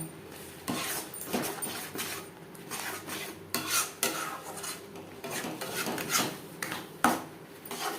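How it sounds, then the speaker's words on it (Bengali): A spatula scrapes and stirs mashed jackfruit seeds in a wok as they dry, making repeated close, gritty metallic rasps in an uneven rhythm with no talking. "নাড়াচাড়া করে ড্রাই করে নেব, যতক্ষণ না পর্যন্ত পুরোপুরি কড়াই থেকে ছেড়ে আসছে"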